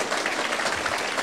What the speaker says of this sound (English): So I want to give a round of applause for Shoaib for bringing this forward.